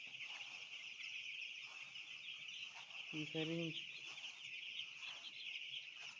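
Four-day-old chicks cheep steadily in high, dense chatter at a poultry farm, with one short harmonic call standing out midway and a faint voice briefly underneath.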